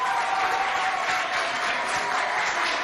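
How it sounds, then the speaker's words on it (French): Strong, steady applause from a school audience at a provincial speaking contest fills the hall, a dense unbroken wash of clapping without clear voices over it. "Applaudissez très fort pour vous."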